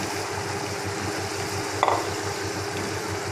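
Tomatoes, green chillies and potatoes fry in a pan for chicken biryani, a soft continuous sizzle with light stirring and a brief scrape partway through.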